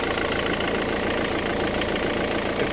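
A 2004 Ford Mondeo TDCi diesel engine idles loud and close, a dense, steady clatter with a fast rattling knock running evenly throughout.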